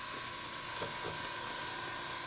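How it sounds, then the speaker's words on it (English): Hairspray misting onto a Brummbar model tank, a soft continuous hiss with a few faint taps, no talking. "I'll hairspray this shade"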